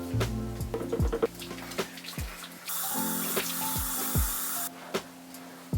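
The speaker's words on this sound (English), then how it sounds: "I need to rinse the face" A bathroom tap runs into the sink for a morning face rinse, a close, steady rush of water lasting about two seconds between light plucked music tones.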